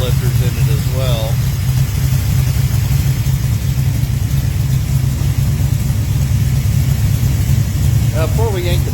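A Pontiac 400 stroker engine with Johnson hydraulic roller lifters runs with its mufflers on, a loud, steady low rumble close up with no clear revs, while voices talk over it.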